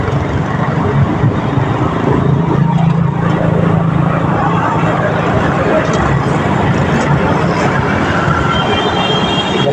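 A large airplane rolls for takeoff, heard as a continuous loud roaring engine rumble that stays steady throughout, with voices talking over it.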